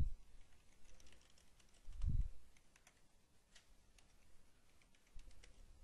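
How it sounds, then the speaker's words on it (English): Quiet keystrokes on a computer keyboard as a username is entered, a faint scattering of light clicks at an uneven pace with a low thump near the middle. "we'll type in an account that we've already set up"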